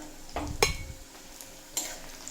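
Crushed garlic cloves and slit green chillies dropped into hot oil with fried onions, giving a brief clatter and stir with sizzling, close and moderately loud, no talk.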